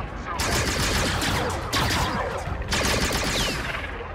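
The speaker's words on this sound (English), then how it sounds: "I'm just shooting you guys." Rapid gunfire bursts from the Star Wars Outlaws video game, loud and dense, repeating in volleys across the moment with a voice talking over the shooting.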